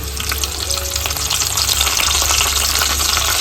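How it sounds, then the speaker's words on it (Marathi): Garlic and curry leaves crackle in hot oil for a tempering, a loud, close, continuous sizzle with sputtering pops throughout and no talk. "मस्त तेल तापलेलं आहे याच्यामध्ये लसूण घालून घेतोय फोडणीसाठी"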